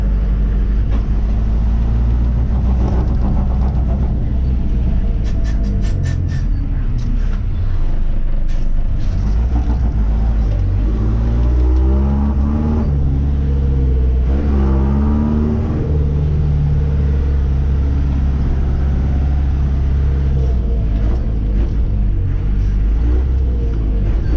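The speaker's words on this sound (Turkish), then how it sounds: "Sadece egzozu dinleyin." A loud Otokar M2000 Sport bus with a Magirus engine rumbles steadily up close, its exhaust swelling and revving in deep waves, with an air-brake hiss and no talking.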